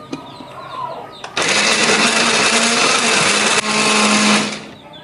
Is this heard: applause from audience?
no